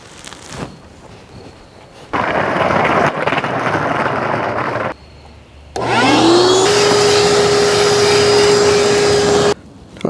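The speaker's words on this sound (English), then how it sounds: "I think I'm going to vacuum that. Yeah, let's vacuum that." A vacuum cleaner runs inside a 2.0 turbo Camaro's interior, starting and stopping in loud bursts with a steady whining hum and rough suction noise as it moves over the surfaces.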